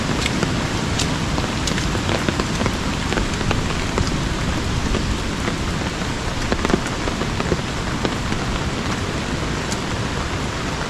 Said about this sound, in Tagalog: Medyo malakas yung ulan dun.